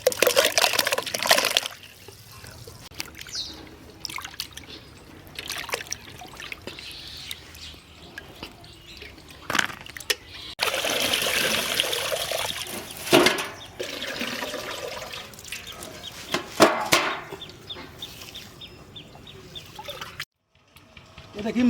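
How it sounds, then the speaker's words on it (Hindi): Fenugreek leaves and potatoes are washed under running water, with a tap splashing and trickling in uneven bursts, close by, broken by short pauses and handling noises. "तो इसका हम मेथी को भी धो देते हैं और आलू को भी धो देते हैं"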